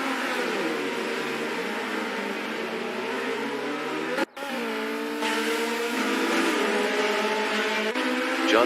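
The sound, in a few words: race cars accelerating at race start in virtual racing video game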